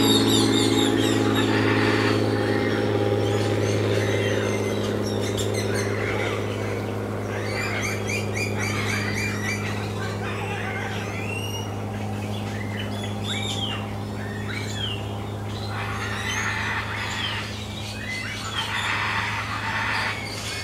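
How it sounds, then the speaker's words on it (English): Many birds calling inside an aviary near an airport, a busy mix of chirps, tweets and coos scattered throughout, over a steady low drone of distant small planes. "here we are in the bird aviary"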